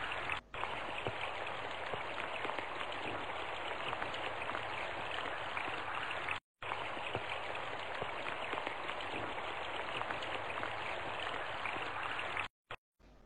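Steady pre-monsoon summer rain in Maharashtra pours down continuously, a dense, even hiss of drops on surfaces that fills the whole stretch with two brief breaks.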